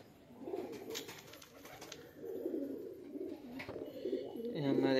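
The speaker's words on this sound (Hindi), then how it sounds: "बाहर कबूतर भड़क रहे हैं" Pigeons coo in soft, repeated throaty bursts, fairly close, over low background noise with occasional faint voices.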